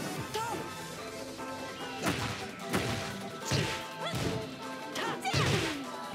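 A heat smash attack lands in Tekken 8 as a series of heavy crashing hits and whooshing swipes, loud and close, repeating about every second over fight music and a commentator's voice.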